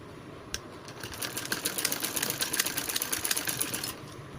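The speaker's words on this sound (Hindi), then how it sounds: "इसी प्रकार पूरी नेक लाइन की चारों ओर ऐसे स्टिचिंग करेंगे हम पाइपिंग के पास में" Sewing machine stitching around the neckline of a belt blouse beside the piping, a steady run of rapid close stitching that lasts several seconds, fairly quiet and uninterrupted, with no talking.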